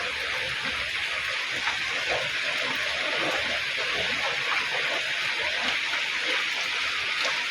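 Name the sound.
rain falling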